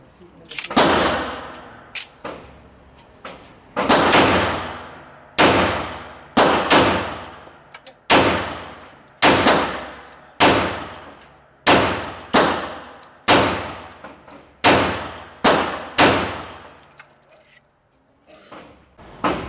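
Remington R1 1911 pistol firing a 10-round magazine: a string of loud, sharp gunshots spaced roughly a second apart, each with a ringing decay, ending in a quieter clatter.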